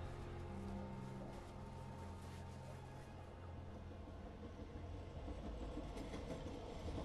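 A train in the video game Planet of the Apes: Last Frontier rumbles steadily with a low, continuous roar and rattling, loud and close throughout, with no talking.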